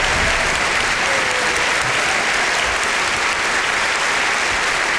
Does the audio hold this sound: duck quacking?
no